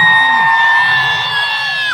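A live event crowd hoots on cue in one sustained, loud collective cry of mixed voices, drawn out for the whole moment with a slight fade near the end.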